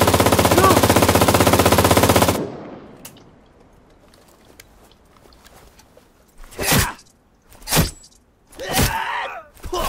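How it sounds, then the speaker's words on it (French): Loud rapid automatic gunfire rattles for about two seconds in the video game Cuisine Royale. After a quieter stretch, several more distinct shots or short bursts follow. "il faut tirer plusieurs balles pour tuer un joueur"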